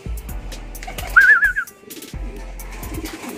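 Domestic pigeons coo in a loft just before being given a bath, with a soft warbling call rising near the middle over faint low rustling and background activity.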